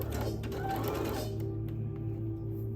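A sewing machine putting a couple of anchor stitches into fabric with elastic tucked under the presser foot, giving a short fast mechanical whirr close by that stops after about a second and a half, leaving a steady hum.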